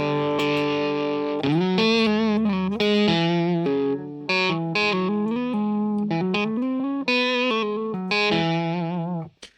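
Distorted electric guitar through a Tantrum boost and distortion pedal and a Klon plays a buzzy, fuzzy melodic line with sustained bent notes, loud and close, ending with a quick fade.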